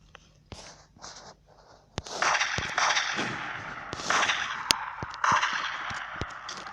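Gunshots in a target shooting video game, sharp isolated cracks at first, then a busier run of shots over a steady noisy game backdrop, moderately loud and close with no voice.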